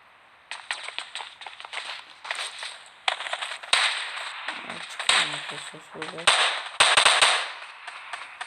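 Gunfire in the mobile game PUBG Mobile Lite, sharp shots in rapid bursts and single cracks, close and loud, with brief game sounds between and a voice talking.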